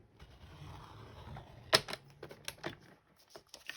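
Paper trimmer scoring a notch into card stock for a holiday cutlery cone craft, a crisp close snap followed by a quick burst of short clicks and rasps, then quiet.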